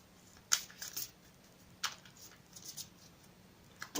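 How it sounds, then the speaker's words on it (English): A deck of Romance Angels oracle cards is shuffled by hand, giving sharp, close riffling snaps and soft card slaps at irregular intervals against a quiet room, with no talk. "I've already pre-shuffled the deck, but I will shuffle it again for you on camera"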